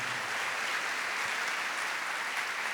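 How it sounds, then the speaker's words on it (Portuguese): A church congregation claps during a sermon, giving a steady wash of applause from many hands, moderately distant and even throughout. "Aplauda isso."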